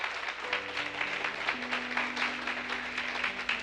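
A church congregation applauds during a sermon, steady clapping spread across the room with sustained keyboard or organ tones held underneath throughout.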